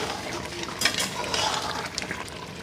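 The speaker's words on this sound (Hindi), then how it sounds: "इसे अच्छे से मिक्स कर लेंगे।" Chicken biryani masala with cumin, coriander powder and garam masala being stirred in a pot, a steady scraping and soft sizzle with light clinks of the spoon, close and moderately quiet.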